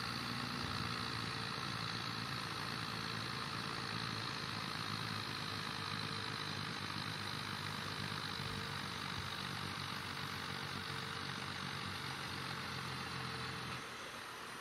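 A tractor engine drones steadily while pulling a weight sled during a pulling event in the Farming Simulator 22 video game, a constant loud low rumble holding for the full length before dropping off at the very end.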